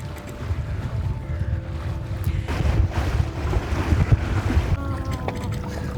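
Wind buffets a sailboat heading into a narrow channel, a steady loud rushing roar on the microphone with rumbling hull and water noise underneath and faint tonal hums throughout.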